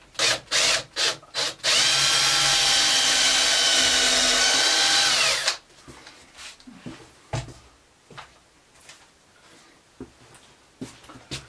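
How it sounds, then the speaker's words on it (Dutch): A power drill whirs steadily for a few seconds after some short bursts, boring a screw hole in a wooden plank, then stops, leaving scattered knocks and handling noises close by. "Ik boor hier nou even een gaatje in, zodat ik hem met een schroef kan vastschroeven in het kozijn."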